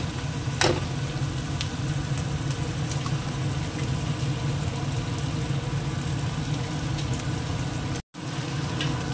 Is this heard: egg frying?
yes